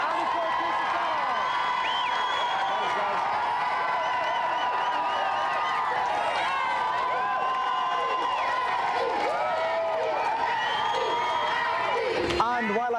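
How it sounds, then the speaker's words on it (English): A studio audience on a TV game show claps and cheers in a dense, sustained burst, under a music bed and talk from the stage. "A round of applause again for our two special guests tonight."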